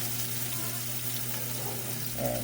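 Garlic and tofu sizzling in an oiled pan alongside onion, a steady crackling hiss close by with a brief louder flare near the end.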